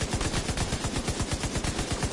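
Rapid automatic gunfire from The Division 2, a loud, dense stream of evenly spaced shots hammering continuously without pause.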